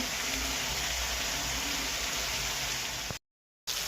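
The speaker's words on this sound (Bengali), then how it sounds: "সবজিটা ভাজা হয়ে এসছে, এবার মশলাটা দেওয়া হচ্ছে।" Vegetables fry in a pan with a dense, steady crackling sizzle that sounds almost like rain, close and even, then cut off abruptly for a moment before resuming.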